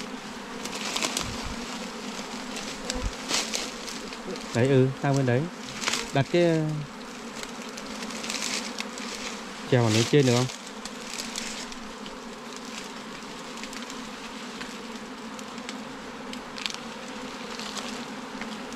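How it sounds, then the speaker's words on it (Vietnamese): A swarm of wild bees being captured for keeping, making a constant buzzing drone throughout while several people talk over it nearby in short exchanges. "Đàn ong rất là đồng quần."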